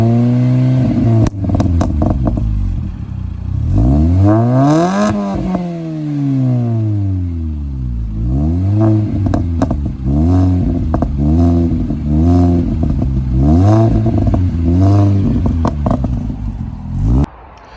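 Supercharged Mini Cooper S R53 with a new exhaust revving hard, loud and close, with sweeping rises and falls, repeated blips and crackling pops on the overrun before settling to idle.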